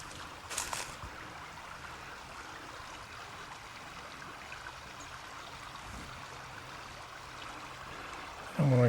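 Creek water on a walk along Fox Creek flows steadily in a continuous low rush and trickle, close and even throughout, with a brief louder knock near the end.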